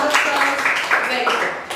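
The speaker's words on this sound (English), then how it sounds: "Give him a round of applause." Classroom applause rises as a steady patter of clapping hands from a group of students, carrying on for under two seconds at moderate volume.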